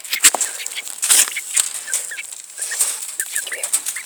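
A bantam rooster flaps its wings in quick bursts and lets out short clucks, close and moderately loud, with scattered fluttering and chirpy calls spread across a few seconds and no talking.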